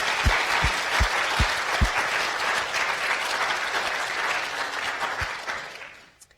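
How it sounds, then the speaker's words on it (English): Audience applause at an annual patient meeting, honoring a departing committee member: a dense, steady wash of clapping from a seated crowd, with a few low thumps early on, fading out near the end. "I think he deserves a round of applause"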